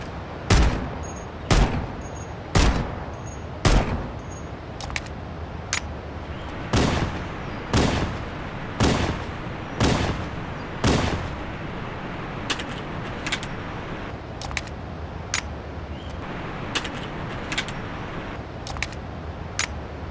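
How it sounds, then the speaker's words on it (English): Punchy pistol gunshots from the Halo: Campaign Evolved remake video game, a steady series of loud, sharp shots fired at roughly one-second intervals, some bursts quicker, with heavy low-end thump. "the remake features a very punchy sound effect for the pistol that feels very satisfying"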